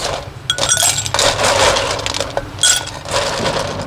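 About a cup of ice cubes tumbles into a cocktail shaker or blender for a strawberry cocktail, a loud close clattering crash followed by a second burst of rattling ice.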